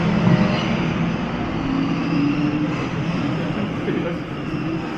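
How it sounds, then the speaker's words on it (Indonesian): Steady low rumble and rolling hum inside a moving train between Shimbashi and Shibuya in Tokyo, continuous and close, with no breaks. "Naik LRT."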